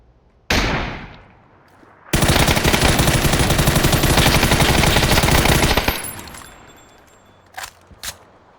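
Loud automatic gunfire from a PUBG battle royale match, a sharp burst followed by a long sustained stream of rapid shots, then a few faint distant pops.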